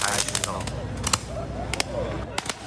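Fireworks set off by people at night during the Mid-Autumn Festival in Tainan's Anping district, a rapid irregular series of sharp cracking bangs, some clustered, over a constant rumbling background.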